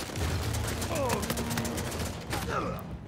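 Gunfire rattles through an Uncharted 4 multiplayer match, with sustained rapid shots and bursts close by, while someone talks over the shooting.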